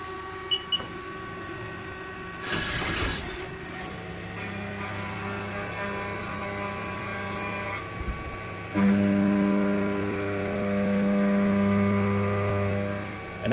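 A machine with its coolant switched off cuts material ahead of threading a prototype racing part, giving a steady droning whine with a layered mechanical hum. A short harsh burst comes early, and a louder tonal drone swells in the second half.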